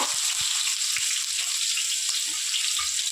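Cumin seeds and onion frying in hot oil for a spicy chicken masala curry, a steady, close hiss of sizzling with faint pops and stirring, no voices.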